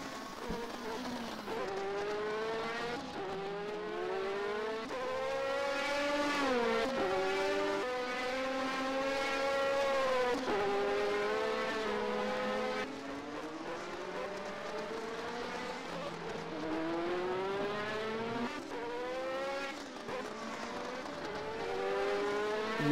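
Norma M20 race cars sweep past on the Val-de-Vienne circuit, their engines droning in sustained, rising and falling whines that shift pitch through gear changes, loud and steady for the whole stretch with no talk.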